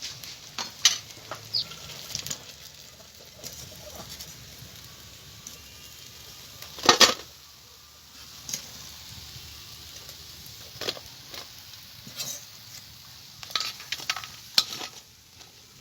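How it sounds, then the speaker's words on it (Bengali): Potato tikki fry in oil with a quiet continuous sizzle, broken by sharp clattering utensil knocks and stirring scrapes at irregular intervals, with no voices. "প্রত্যেকটা আমি এইভাবে ভেজে নেব।"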